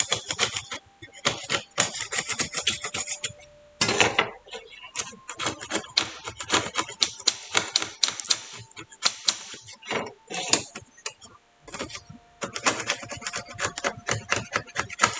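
Old paint being scraped off the kusazuri, the skirt plates of a suit of samurai armor, in dense rapid bursts of rasping scratches with brief pauses, heard close and loud while someone talks over it.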